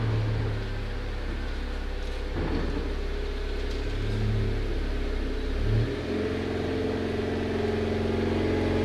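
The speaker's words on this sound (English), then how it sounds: "I'm gonna go ahead and back my car up in the garage here" A Genesis G70 car backs slowly into a garage, its engine a low steady rumble with shifting tones as it creeps along, close by and without talk.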